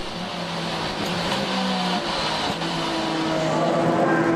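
BMW M3 race cars battling at the Zolder circuit, a continuous engine drone with shifting pitch as the cars hold revs, steady and moderately distant under broadcast ambience, without voices.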